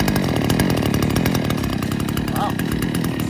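Salem Master Pro chainsaw, brand new and started at half choke, its two-stroke engine running loud and close, a steady high buzz that holds throughout without letting up.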